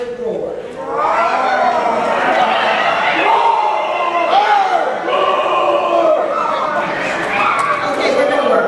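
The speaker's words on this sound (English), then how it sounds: "Students, join me in giving your faculty a strong Averett roar." A large crowd of university students roars and cheers for their faculty at a convocation, a loud, sustained wall of mixed voices and whoops that swells after a brief lull and holds steady throughout.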